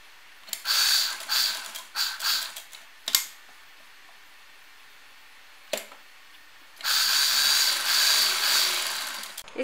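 An electric sewing machine stitching a pintucked kurta panel whirs in a run of short bursts, pauses with a couple of sharp clicks as the needle and foot are set, then runs steadily again for several seconds.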